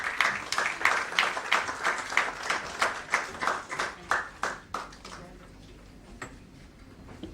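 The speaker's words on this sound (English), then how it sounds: "Can we have a huge round of applause?" Rhythmic, nearby clapping from a modest audience greeting dignitaries at the launch of a self-defense training program, roughly even beats that weaken and trail off after about five seconds, ending with a few scattered claps.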